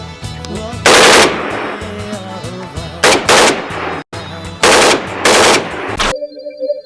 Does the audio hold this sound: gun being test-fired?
yes